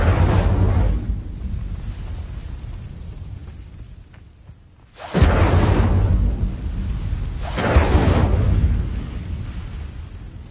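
Incendio fire spells in Hogwarts Legacy roar out in deep whooshing blasts, one fading to near silence before a sharp new burst and a further surge, loud and rumbling with no speech.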